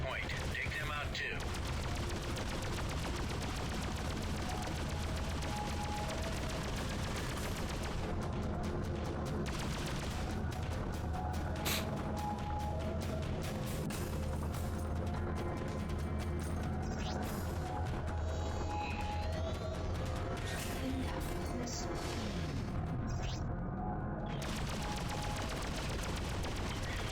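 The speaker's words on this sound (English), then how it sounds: "whatever guns those are, just ripping through my shields" Spaceship guns firing in the space combat game Freelancer, a dense continuous barrage of rapid blasts and booms layered over engine hum and music, with a voice speaking at times.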